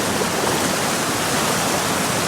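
Raging white water rushing beside a gold-prospecting sluice box, a loud, steady broadband roar filling the whole moment with no voices over it.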